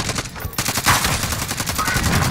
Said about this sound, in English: Sending a rocket.